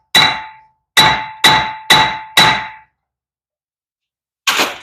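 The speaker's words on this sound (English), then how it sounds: "I'm gonna beat this rotor off" Metal hammer strikes ring out against a seized brake rotor on a 2010 Nissan Murano hub. There are five loud, ringing clangs in a steady rhythm, a pause, then one more blow, with no talking.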